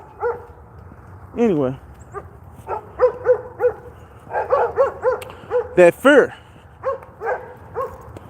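A dog barks repeatedly from nearby on an outdoor walk, in uneven bursts of sharp barks and a yelping whine, while someone talks intermittently.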